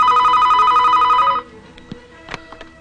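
A telephone bell rings loud and close in a Telugu comedy film scene, a steady electronic trill lasting about a second and a half before cutting off into quiet room sounds and small clicks.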